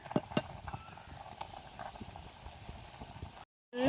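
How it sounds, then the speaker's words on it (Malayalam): Papaya curry with ground coconut paste bubbles in a pan on a strong flame, a steady quiet simmering with irregular popping bursts throughout, ending in a short silence. "നന്നായിട്ട് തിളച്ചിട്ടുണ്ട്"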